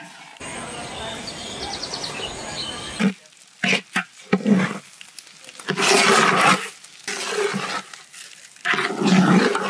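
Rice and cashews fry for pilau in a village kitchen: a loud, dense sizzling hiss fills the first few seconds, then gives way to intermittent talking with bursts of clatter.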